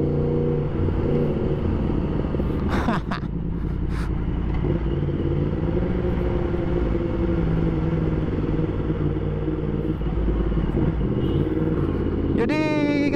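A 2020 Yamaha MT-10 SP with an Akrapovic exhaust being ridden; its loud engine drone runs continuously with some revving changes, a couple of brief sharp disturbances, and a rising rev toward the end.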